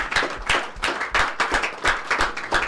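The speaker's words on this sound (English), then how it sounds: "please, a round of applause for them," An audience claps steadily and applauds throughout, a dense, continuous patter of many hands with rhythmic peaks and no talk over it.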